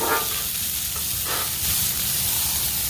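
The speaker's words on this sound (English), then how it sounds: "I added the sliced up onions and began sauteing them to go on our steak" Sliced onions sauté in bacon grease on a Blackstone griddle, giving a steady moderate sizzle with occasional stirring scrapes, heard up close without voices.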